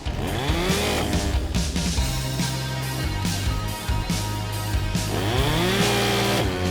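STIHL MS 211 petrol chainsaw running, engine revving up and down in repeated surges with a loud, close buzzing roar and a steady idle between throttle blips, no talking.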